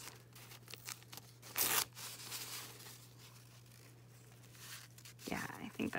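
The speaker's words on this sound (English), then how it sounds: "we'll just tear this right apart like this" Paper tears by hand for junk journal decoupage, a couple of close ripping strokes standing out over quiet rustling and a faint steady hum.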